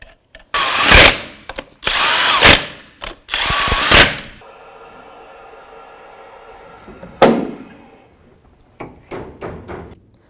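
Ratchet wrench snugging a 16mm nut on the top bushing of a front sway bar link on a 1997-2001 Jeep Cherokee, heard as three loud bursts of rapid clicking close by, then a quieter stretch and one more short burst.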